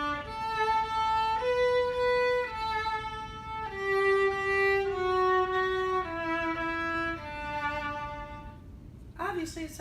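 A famous Mozart melody retuned to A 293 Hz sounds noticeably lower, its steady harmonic notes gliding gradually downward at a constant moderate level. A short noisy burst comes at the very end.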